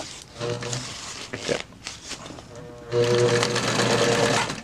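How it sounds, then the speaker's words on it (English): A sewing machine stitches along the edge of a tarp in two close, loud bursts of rapid mechanical whirring, separated by a short pause of handling noise. "Sew down this side. I'm going to sew down to about here."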